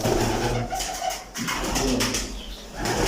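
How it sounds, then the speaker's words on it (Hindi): A pet pigeon coos close by in soft, throaty repeated phrases over a busy background of other birds, with a short gap midway and no talking. "ये कबूतर है, ये बड़े लाड प्यार वाला कबूतर है"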